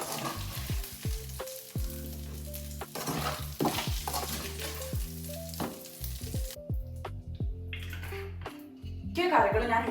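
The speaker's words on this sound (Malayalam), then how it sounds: "ആൻഡ് ചിക്കൻ ഞാൻ ഓൾറെഡി ഇങ്ങനെ വറുത്തുകൊണ്ടിരിക്കുകയാണ്." Chicken fries in a pan with a steady, close sizzle, and stirring and utensil clinks recur throughout. Pitched, tonal sounds and a voice run underneath, and the sizzle briefly drops away and then returns near the end.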